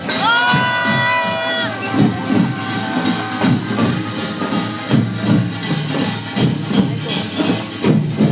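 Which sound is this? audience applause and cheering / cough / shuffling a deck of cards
audience applause and cheering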